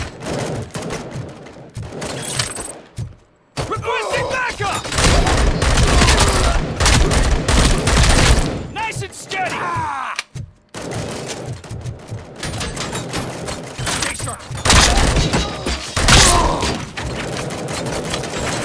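Sustained covering gunfire in the video game RoboCop Rogue City: loud, dense bursts of automatic shots and thuds that fill most of the stretch, broken by two brief near-silent gaps.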